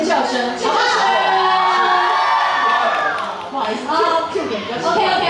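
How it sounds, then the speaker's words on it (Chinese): A concert crowd at the 2018 Kaohsiung beer music festival screams and cheers, a dense, continuous roar of many voices held at full volume throughout. "这种时候就要有尖叫声， 好不好？"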